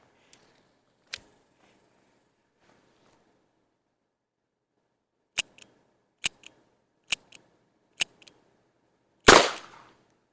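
A revolver fired at target practice: sharp, short cracks at spaced intervals, each followed by a faint echo, ending in one louder, broader blast.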